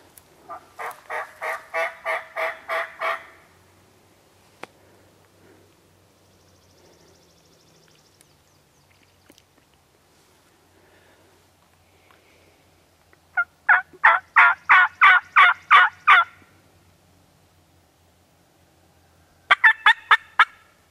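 A wild turkey gobbles in rapid, rattling bursts, one long call, a pause, then another long volley and a short final burst, at moderate distance in quiet surroundings.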